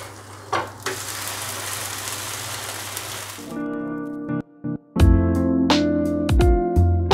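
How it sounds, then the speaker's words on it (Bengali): Sabudana dosa frying on low heat in a pan: a soft, steady sizzle gives way midway to louder clattering and scraping as the dosa is turned, with several sharp knocks near the end. "আঁচটাকে কম করে রাখতে হবে, কম আঁচে ভাজতে হবে।"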